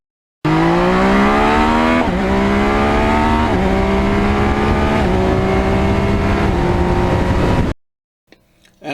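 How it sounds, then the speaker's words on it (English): A 2020 Yamaha MT-09 motorcycle accelerates hard, its engine note climbing loud and close through several quick upshifts with brief dips between gears, then cutting off into near silence. "When you're out on MT09,"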